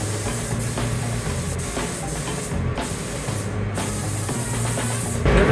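Spray gun laying a heavy clear coat onto a Mitsubishi Pajero bumper under repair, a steady continuous hiss of atomized spray close up with slight surges, no talking.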